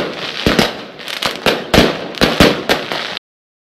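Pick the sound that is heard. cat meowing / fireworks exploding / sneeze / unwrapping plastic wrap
fireworks exploding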